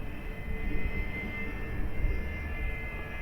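An XFly Twin Otter RC plane in flight at about half throttle, giving a steady, continuous motor drone at moderate distance with wind noise and no talking.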